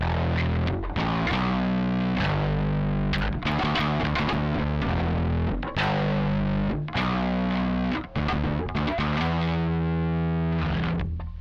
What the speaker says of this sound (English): So that overdrive sound sounds like this.